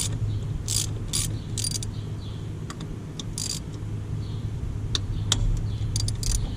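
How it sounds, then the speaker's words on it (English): A ratchet loosening hose clamps on the intake of a 5.9-litre 24-valve Cummins in a Dodge Ram 2500, bursts of quick clicking separated by pauses over a low steady hum, with no talking. "You just want to loosen the top, your top hose clamp."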